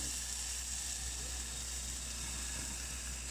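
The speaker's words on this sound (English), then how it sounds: "You can tell it's cooking over top of gas." Hormel chili sizzles in a pan over a gas flame, a steady, even hiss with a constant low burner rumble beneath, quiet and unbroken, no voices.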